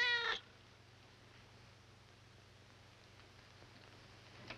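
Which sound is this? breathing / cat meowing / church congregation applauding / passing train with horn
cat meowing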